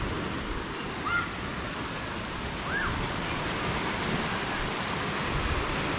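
Steady rushing surf of breaking waves fills the scene at a beach in Jimbaran, Bali, a constant broad wash with faint distant bird chirps.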